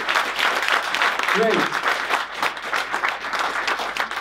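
Audience applause after a talk sounds as a steady, moderately loud wash of clapping, with a brief spoken word partway through.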